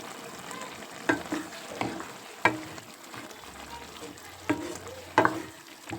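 Eggplant curry being stirred in a pan, with a soft sizzle underneath and several distinct scraping knocks of the spoon against the pan spaced a second or so apart, fairly quiet overall.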